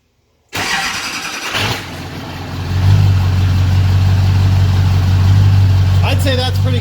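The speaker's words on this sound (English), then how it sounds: "I wanted to do a cold start, see if it still hesitated on starting or if it fired right up." A Duramax diesel pickup is cold-started on a 40-degree day. It cranks briefly, fires promptly and settles into a loud, steady, rumbling diesel idle close by.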